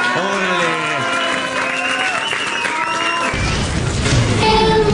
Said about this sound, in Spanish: Más un aplauso.